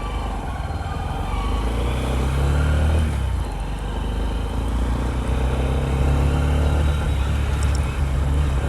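A Honda SP125 BS6 125cc motorcycle runs on a city ride, its engine droning steadily and loudly throughout, mixed with rushing wind and road noise and no pauses.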